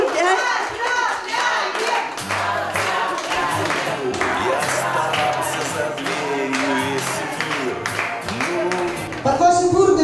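Applause and clapping from guests at a woman's milestone birthday celebration, a steady crowd sound filling the room alongside voices and background music.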